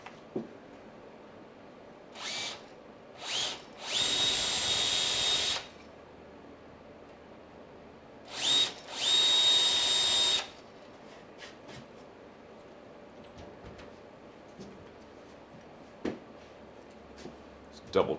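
A power drill bores clearance holes for screws in a mobile raised container planter, with two short whirring bursts followed by two longer loud runs, separated by quiet pauses.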